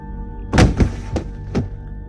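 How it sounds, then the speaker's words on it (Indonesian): Several dull thuds on a door in an abandoned hospital: two close knocks, then two more spaced apart, fairly loud and near against a quiet hum. "suara pintu yang tertabrak sesuatu terdengar sekali lagi."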